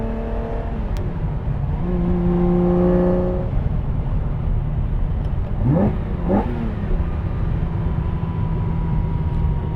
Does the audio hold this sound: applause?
no